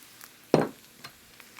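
A whack of mushrooms goes into a pan for sautéing on medium heat, giving one brief loud sizzling burst as they land, then fading to faint crackles and small taps, with no talk.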